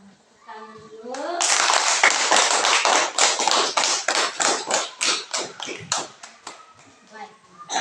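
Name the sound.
class clapping hands together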